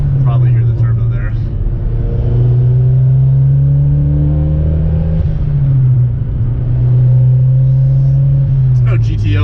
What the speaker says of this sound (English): It's got a cold air intake, so you can probably hear the turbo there.